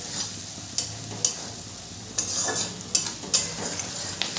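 Onions and garlic frying in a pan, a soft continuous sizzle broken by a few sharp spatula scrapes and taps against the metal, heard up close with no talking.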